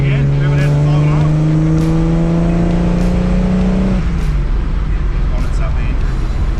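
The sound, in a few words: 1970 Ford Capri engine revving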